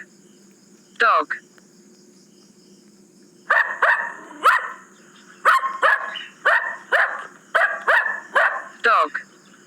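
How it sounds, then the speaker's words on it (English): Dog barking in repeated sharp barks, one early and then a quick run of about ten, loud and close, with a steady insect-like high drone underneath. "Dog."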